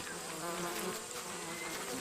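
Bees buzzing around a wild nest as a honey hunter blows smoke into it in Ethiopia, a dense, steady drone of many insects, close and moderately loud with no talking.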